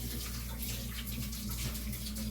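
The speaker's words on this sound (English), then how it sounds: "Hold on, let me rinse my hands." Tap water runs steadily from a kitchen faucet as hands are rinsed under it, a continuous close splashing rush with no talking over it.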